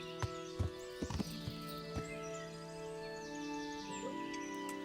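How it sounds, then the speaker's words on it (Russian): Horse hooves clopping in the medieval video game Kingdom Come: Deliverance, a handful of sharp, irregular thuds in the first two seconds over a steady tonal game ambience with faint bird calls, no talk. "А, пойдем лошадь ставим здесь."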